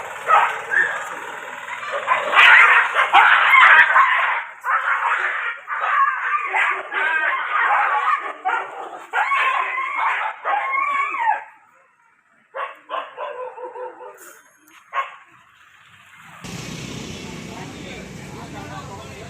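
Street dogs in Madurai bark repeatedly at close range, loud and busy over the first twelve seconds, then trail off into scattered yips before a steady background noise takes over.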